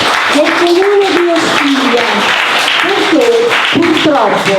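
An audience at a local cultural event in Casaleone applauds steadily, a dense wash of clapping heard under a voice speaking over it throughout.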